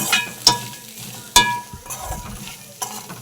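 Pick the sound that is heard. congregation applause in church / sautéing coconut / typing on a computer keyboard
sautéing coconut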